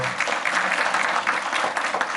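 An audience claps for a lecturer at a software thinking olympiad briefing session at Seoul National University of Education, a dense, steady round of applause lasting a couple of seconds without speech.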